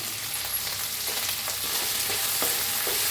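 Potato and brinjal curry with tomato frying in a pan, with a soft steady sizzle and light intermittent stirring clicks.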